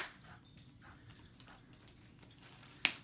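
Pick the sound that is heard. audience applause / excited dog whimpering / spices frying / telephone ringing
excited dog whimpering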